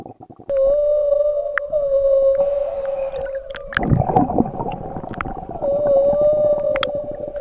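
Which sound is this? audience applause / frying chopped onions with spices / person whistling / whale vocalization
whale vocalization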